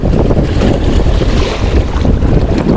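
A boat motor runs on Laguna Lake, a loud continuous low rumble mixed with heavy wind buffeting the microphone and splashing water, with no voices.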